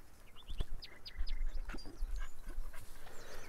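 A dog in the farming game Farmer's Dynasty pants and whimpers in short bursts over a quiet outdoor farm ambience with faint bird chirps; no voices.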